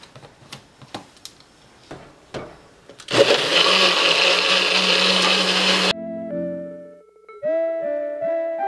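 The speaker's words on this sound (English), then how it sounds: "now we're just going to blend that up" A blender whirs loudly through a smoothie for about three seconds, starting after a series of sharp taps and clicks, then stops abruptly and gives way to brief tonal beeps and chimes.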